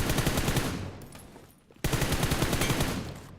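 UMP45 submachine gun firing in BGMI, two rapid automatic bursts, close and loud, separated by a short pause.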